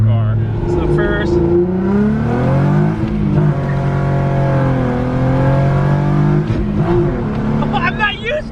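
A VW Golf MK2 with a 24v engine accelerates hard on cold tires. Its engine note climbs loudly in pitch, drops at each gear change and climbs again, while people talk inside the car.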